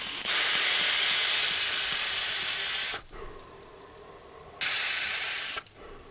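Vape drawn through a Wismec Predator 228 with a Peerless dripper and 0.15 ohm dual fused Clapton coil at 65 watts, airflow wide open: two close hissing draws, a long one of almost three seconds and a shorter one, with quiet between.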